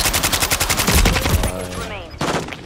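Rapid automatic gunfire in Call of Duty, a loud rhythmic burst of evenly spaced shots that cuts off partway, followed by game effects and a later short blast.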